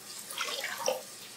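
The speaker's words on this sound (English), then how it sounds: "Next, we're gonna need 6 cups of warm water." Warm water pours into a container for a fish brine of kosher salt, making a soft, steady splashing stream over about a second and a half, with no talk.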